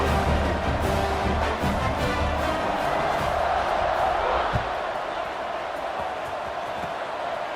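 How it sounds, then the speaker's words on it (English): A stadium crowd roars continuously at kickoff in a Syracuse vs Duke college football video game, a dense steady wash of cheering that holds throughout and only slightly eases toward the end. "They're set to kick it off, and this crowd now ready to get behind them"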